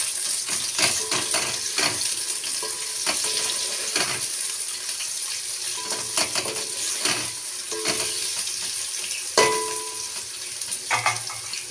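Okra frying in a pan is stirred steadily, giving a continuous sizzle with scraping and clinking as the utensil moves through it, close and fairly loud.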